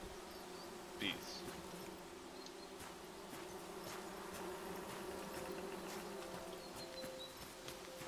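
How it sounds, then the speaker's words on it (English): Bees buzz continuously in the forest game Among Trees, a steady low drone of insects that stays even and moderately close with no talking over it. "Bees."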